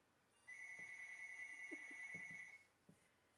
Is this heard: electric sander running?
no